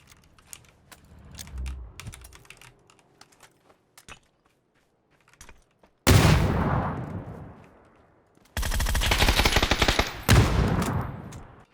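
Video game gunfire erupts in two loud, sustained automatic bursts in the second half, preceded by scattered soft keyboard-like clicks and a quiet stretch.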